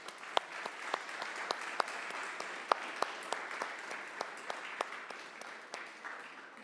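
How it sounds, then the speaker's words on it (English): Moderate applause from a conference audience at a 5G and broadband event, soft and somewhat distant, with a few sharper individual claps standing out over a steady wash. "So really a big warm applause, please, for Ben, for Anne, for Natalie, and for Christian"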